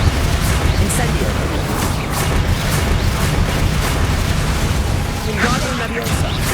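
Incendio fire spell being cast in Hogwarts Legacy: a dense, continuous rumble of bursts and booming blasts with crackling overtones that stays loud throughout, mixed with a voice.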